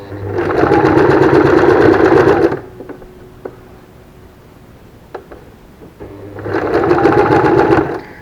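A sewing machine stitches elastic onto a fabric face mask in two loud, fast runs of stitching separated by a quiet pause with small handling clicks.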